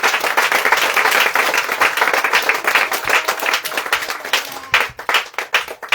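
Churchgoers at a morning prayer service clap loudly together in sustained applause, dense at first and then breaking into separate, sharper claps toward the end.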